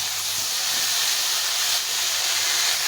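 Boiled banana flower frying with spices in a pan, a loud steady sizzling hiss that runs without break and has no voices.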